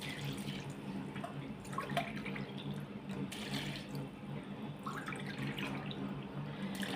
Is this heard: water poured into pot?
yes